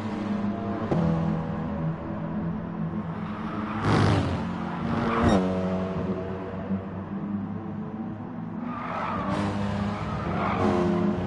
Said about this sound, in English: You hear the tyres screeching.